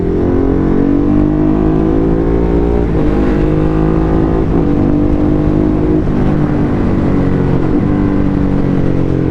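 Heavy road traffic on a congested Manila street during the Christmas rush, a steady loud drone of many car engines and idling vehicles, with a nearby motorcycle engine rumbling and occasionally revving throughout.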